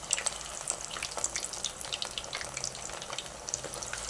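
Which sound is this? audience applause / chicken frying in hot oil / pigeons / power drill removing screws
chicken frying in hot oil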